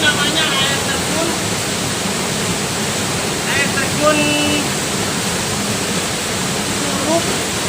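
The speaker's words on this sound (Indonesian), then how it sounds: "Ini namanya air terjun" Curug Kapulaga, one of several waterfalls in the Kapulaga area, gives a steady close broadband rush of falling water throughout, with a voice briefly speaking over it.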